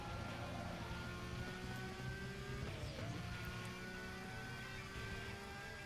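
A Lamborghini Gallardo's engine drones at full throttle during a race in Need For Speed Most Wanted, a loud, continuous high-revving roar that holds steady throughout.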